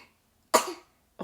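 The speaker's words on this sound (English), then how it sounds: "he's coughing" A single sharp cough bursts out close by in a quiet room, followed by the start of another cough at the end.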